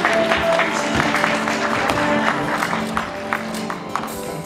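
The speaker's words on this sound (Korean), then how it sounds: "따뜻한 박수로 환영해 주십시오" Audience clapping welcoming guests at a press conference for a JTBC travel variety show, a moderate patter of hands mixed with crowd murmur and some voices, fairly steady and gradually thinning.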